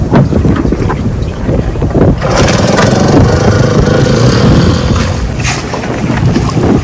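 A small boat motor drones steadily and loud while the boat runs on a river in Vietnam's Mekong delta, with strong wind buffeting the microphone throughout.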